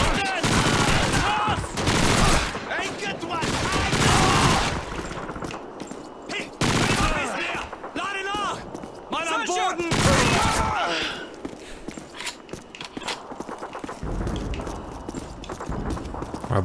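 PPSh submachine gun bursts in Call of Duty 2 on a winter Soviet campaign map, rapid repeated volleys of gunfire, loud and close, broken by short gaps, with voices talking in between.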